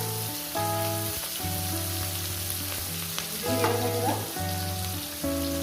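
Garam masala tempering sizzles in hot oil for a spicy chicken curry, a constant close frying hiss under a layer of steady background music, no talk.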